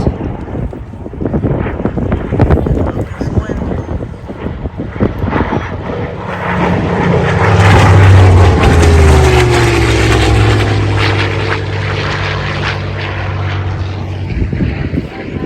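Bell P-63 Kingcobra WWII fighter making a photo pass at an air show, its piston engine drone swelling to a loud peak midway, then fading, heard amid strong wind buffeting on the microphone.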